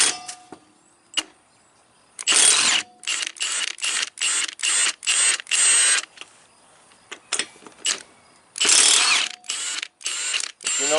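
A powered hand ratchet backs bolts off a used car, its motor whirring in loud bursts of about half a second, separated by brief pauses and light clicks of the pawl.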